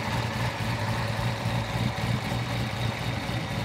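A Hennessey Exorcist muscle car's engine idles, a steady low rumble with a slight lope, continuous and close for the whole stretch, with no voices over it.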